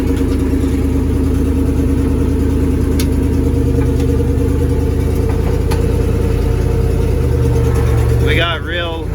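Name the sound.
1963 International Loadstar 1800 truck engine driving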